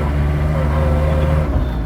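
A restored Fiat Premier Padmini 137D with a column-mounted hand gear lever drives on an open road, its engine giving a loud, steady low drone from inside the car without any talking.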